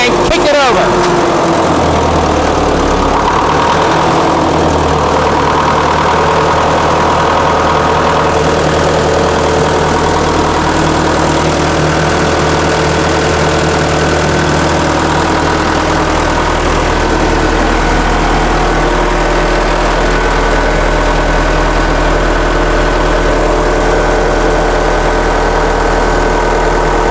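An International Harvester UD9 diesel generator set idles loudly and steadily nearby, a continuous low rumbling drone with a faint knocking pulse running throughout.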